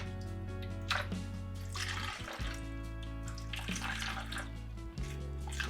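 Filtered water runs steadily into herb storage containers holding fresh mint leaves, a continuous close splashing pour with brief breaks between containers.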